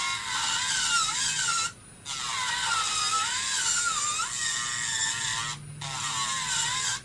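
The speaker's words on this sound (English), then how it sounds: "These little nail drills they bringing out now, they perform" A small electric nail drill whirs steadily during polygel nail work, a high whine that rises and dips in pitch as the bit loads, cutting out briefly twice before spinning back up.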